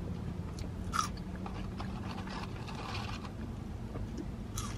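Crispy, hot McDonald's French fries are eaten close up, with soft crunching and chewing bites over a low background rumble.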